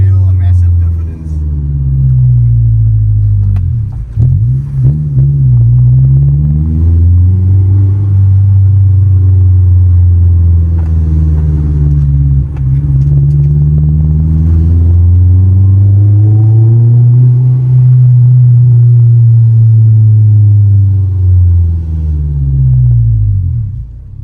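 A Honda S2000 with a cracked differential hums along short roads, its loud, close engine drone rising and falling steadily with each change in speed while the driver talks over it.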